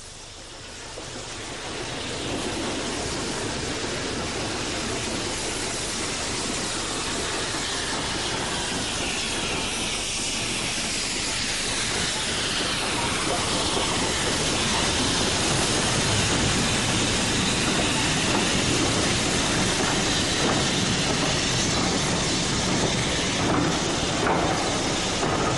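British Railways' last steam locomotive works hard up a severe 1 in 49 gradient from Grosmont to Goathland, a loud, sustained roar of hissing steam and rolling wagons that builds within seconds and holds steady as it climbs close by.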